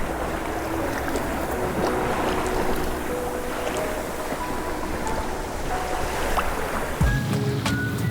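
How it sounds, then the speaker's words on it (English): A sailboat under sail in about 10 knots of breeze on the west coast of Scotland, engine off, with a steady broadband rush of wind and water along the hull and a brief low knock near the end. "So the engine's off, sails are out, and we're bombing along."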